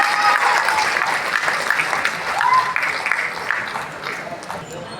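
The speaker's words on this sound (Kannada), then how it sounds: "ಜೋರಾಗಿ ಚಪ್ಪಾಳೆಯೊಂದಿಗೆ ಅವರಿಗೆ ಸ್ವಾಗತ ಮಾಡೋಣ" Enthusiastic applause welcoming performers of a mythological play staged by a women's bhajan group, brisk clapping from a crowd that swells and then gradually thins, with faint murmuring underneath.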